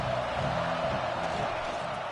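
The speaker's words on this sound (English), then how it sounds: "This crowd ready to make its presence known." Stadium crowd in the NCAA 26 college football video game, a dense continuous roar of cheering fans filling the background at steady loudness.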